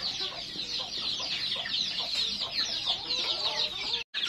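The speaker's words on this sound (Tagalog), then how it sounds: "Yung mga manok natin." Chickens cluck steadily on a goat farm, a dense layer of overlapping hen calls and chatter that runs without a break before a brief drop near the end.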